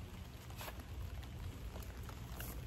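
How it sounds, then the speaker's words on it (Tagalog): Steady rain falls hard in a Philippine countryside setting, a dense continuous wash of drops on surfaces that holds loud and even throughout, with no voices. "Ayan, lumakas na naman ang ulan."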